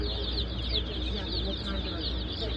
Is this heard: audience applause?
no